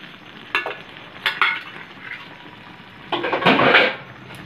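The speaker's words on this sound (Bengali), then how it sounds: "এটাকে এখন ভালো করে ঘেঁটে দেবো, যতক্ষণ না কোকোনাটের একটা যে কাঁচা গন্ধ থাকে সেটা যতক্ষণ না চলে যায়" Prawns and coconut are stirred in a frying pan, with several scraping, sizzling bursts of a spoon against the pan at irregular intervals and a longer, louder stirring sweep near the end.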